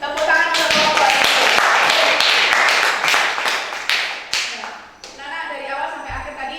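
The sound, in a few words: children clapping for group 3 in classroom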